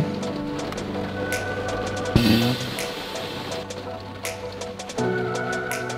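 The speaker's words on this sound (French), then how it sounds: "Il pleut comme ça toute la journée." Steady rain patters on a surface nearby, with a low hum underneath and a brief thump and squeak partway through.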